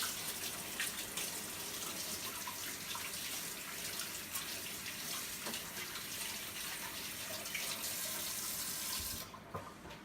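Tap water runs steadily into a sink as hands are washed after handling raw pork ribs, a continuous close hiss that stops abruptly near the end.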